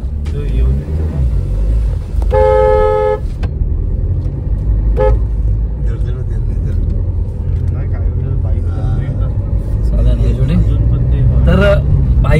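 A vehicle horn sounds in one clear harmonic blast of about a second on a narrow road overgrown with bushes, over steady engine rumble, with shorter honks later and people talking throughout.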